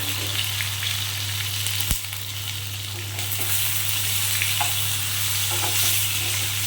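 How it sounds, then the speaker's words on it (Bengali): Eggplant pieces fry in a pan for a Bengali eggplant-and-hilsa dish, a steady broadband sizzle with a low hum underneath and one brief knock partway through, no talking. "বেগুনগুলোকে আমি একটু লাল করে ভালো করে ঢাকা দিয়ে কমিয়ে বাড়িয়ে ভালো করে ভেজে নিচ্ছি"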